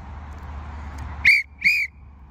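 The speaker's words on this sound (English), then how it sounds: "When I blow one whistle like this, you walk." Two short, shrill referee-style whistle blasts during one-to-one goalkeeper training on a field, each about a quarter second long and close to the microphone, separated by a brief pause.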